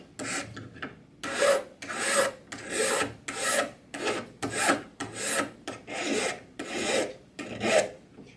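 A hand file is stroked repeatedly across the edge of a tool being sharpened, rolling around a corner, making about a dozen steady, close rasping strokes in an even rhythm with no talking.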